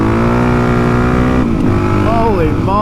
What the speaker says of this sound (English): Have a listen to this new bike just pull.